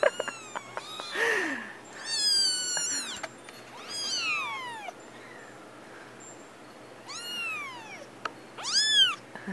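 Kittens meowing, several high, thin mewing calls in separate bursts with short quiet gaps between them, close and clear over a faint background.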